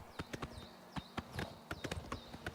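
Horse hooves clip-clop in a steady, fairly close rhythm of separate sharp strikes in Oblivion Remastered, the game's riding sound with no talk over it.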